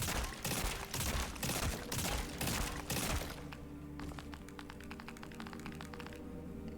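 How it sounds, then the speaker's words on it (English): Burst-fire weapon in a video game: rapid clusters of loud shots in repeated bursts, then a quieter stretch of clicking, tapping reload mechanics that continue to the end; no voices. "Burst fire."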